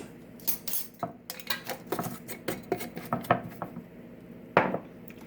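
A spoon clinks and scrapes around a bowl of banana bread batter after a teaspoon of baking soda is added, giving a quick run of close, light metallic taps and stirring scrapes with no talk.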